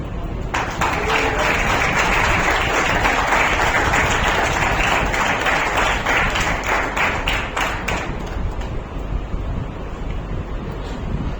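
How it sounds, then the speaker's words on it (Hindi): Applause rings out for the winners at an award ceremony, a dense continuous clatter of many hands that carries on throughout and thins slightly toward the end. "इनके लिए एक जोरदार तालियां।"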